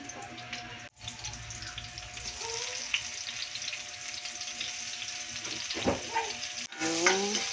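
Pork sautéing with onion and garlic in a pan gives a continuous close sizzle with stirring scrapes and a few brief clatters, steady and moderately loud with no voices over it.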